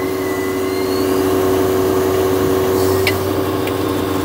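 A crane's engine idles steadily during pack-up, a constant low drone with a faint higher whine, loud and continuous with no voices.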